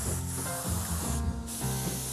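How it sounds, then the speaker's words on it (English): A close aerosol spray of shellac hisses in short bursts with brief pauses, steady and fairly loud, applied to furniture. "Gonna spray the shellac again."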